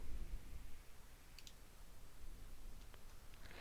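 A computer mouse gives a few faint, sharp clicks spaced apart over a low, steady room hiss.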